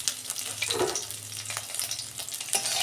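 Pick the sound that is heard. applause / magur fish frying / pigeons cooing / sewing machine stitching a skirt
magur fish frying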